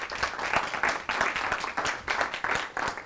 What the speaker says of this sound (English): So please give those actors a round of applause because that was great.